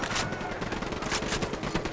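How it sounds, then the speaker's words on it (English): Gunfire in Ghost Recon: Wildlands as a cartel firefight breaks out: rapid, dense volleys of shots crackling continuously, fairly distant and moderately quiet, with no voices clearly standing out. "Shots fired. Unidad's engaging the cartel."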